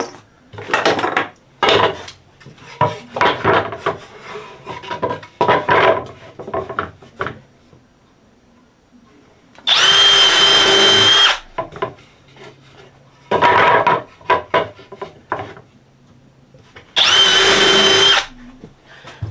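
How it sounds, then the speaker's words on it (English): A power drill whirs in several short bursts, pre-drilling holes into wood, with quieter clatter and handling noises between the runs. "So we need to pre-drill those and countersink them."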